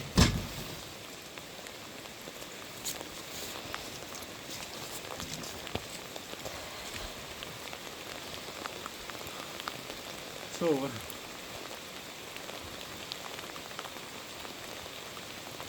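Rain falling steadily on wet ground around sinkholes, a soft, continuous patter of drops heard close, with a brief spoken word at the start and a faint voice or sound partway through.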